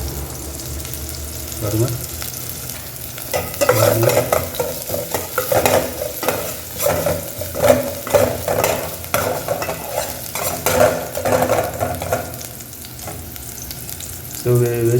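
Onions sauté in a pan for vegetable kabsa, a steady sizzle broken by repeated scraping stir strokes; a voice speaks briefly over the cooking.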